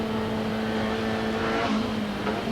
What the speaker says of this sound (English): The car seems to be running beautifully.